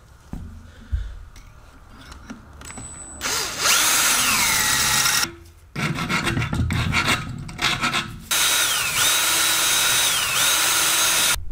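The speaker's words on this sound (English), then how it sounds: "I'm gonna drill it from the top here, just to make sure it's all centered." A power drill bores into a stainless steel turbo oil fitting, its motor whining up in pitch before the bit bites with a harsh grinding rasp, in several loud, close bursts separated by short pauses.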